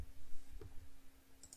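A computer mouse click during web analytics software work, a single soft tap followed by another faint click, quiet against a low steady hum.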